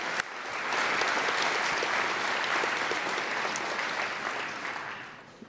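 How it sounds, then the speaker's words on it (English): A school assembly audience at a Veterans Day event applauds the band and choirs. The clapping swells quickly, holds steady and dense, then tapers off toward the end. "So let's give them definitely a round of applause too"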